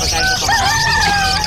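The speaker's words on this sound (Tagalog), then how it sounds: "ang dami naman ibon ni Boss Marvin dito sa Bukawi" Many caged birds and fowl at the Bocaue pet market in Bulacan make a loud, close chorus of overlapping crowing and clucking calls that fills the whole moment.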